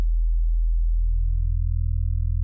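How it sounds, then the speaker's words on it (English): A deep FM synth tone built from two layered sine waves sustains as a steady, loud, low hum with a slight warbling pulse and nothing else over it. "I'm using it in FM mode, and I'm just doing a sine wave and another sine wave."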